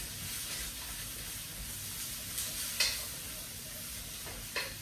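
Vegetables for chicken chop suey sizzle and fry in a very hot pan, a steady quiet hiss broken by a few sharper crackles and stirring scrapes.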